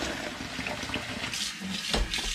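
Warm tap water pours steadily into the drum of an Air Still Pro, a continuous broadband liquid rush with a few splashy surges, close and fairly loud, no speech.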